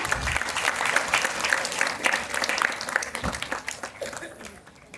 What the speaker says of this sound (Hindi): तो एक बार उनके लिए जोरदार तालियां